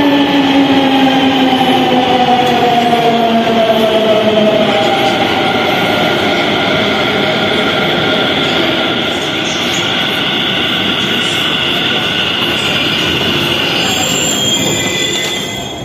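A Delhi metro train runs loudly and steadily throughout, with high wheel squeal and rail rumble; the pitch slides downward in the first few seconds and the noise stays close and constant, with no talk.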